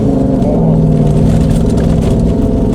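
Maserati 4.2 V8 with a loosened exhaust runs close and loud, a steady low rumble with uneven rising revs and a rough, droning tone on snow and ice at a classic-car event.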